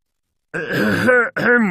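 A person clears their throat close to the microphone, a rough guttural rasp followed by a brief second harrumph.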